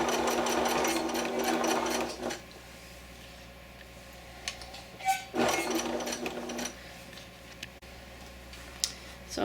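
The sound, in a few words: sewing machine stitching a chenille scarf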